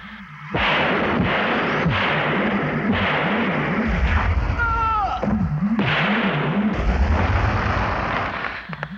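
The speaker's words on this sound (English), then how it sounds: "Why are those fools shooting at the creature?" Gunfire and explosive bursts from a monster movie scene where soldiers shoot at an alien creature, loud and continuous, with booming low rumbles, whistling tones and a pulsing dramatic score throughout.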